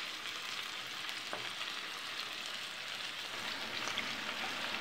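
Ham, about 100 grams, sizzles steadily in a pan while being fried for pasta carbonara, with a constant crackling fry throughout and no voices.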